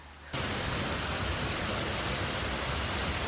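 A waterfall in the Columbia River Gorge roars as a steady, dense broadband wash that cuts in sharply just after the start and holds loud and unbroken to the end, with no voices.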